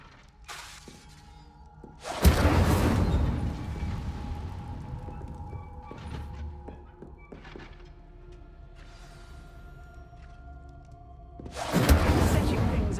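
Fire spell bursts striking practice targets in Hogwarts Legacy, two loud crackling whooshing blasts with crashing impacts, the first near the start and the second near the end, with quieter clatter between.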